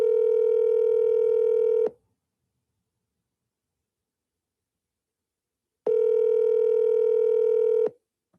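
An outgoing phone call rings on the line: a long, steady ringback tone, a few seconds of silence, then a second identical tone, clear and close with no voices.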